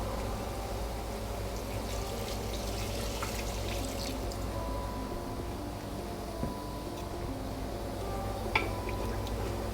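Water pours steadily into a cooking pot of gosht handi curry, a continuous soft splashing and trickling with a couple of faint clinks, fairly quiet throughout.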